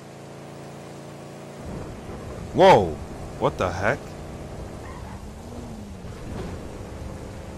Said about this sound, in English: What's with the weird thunder effect?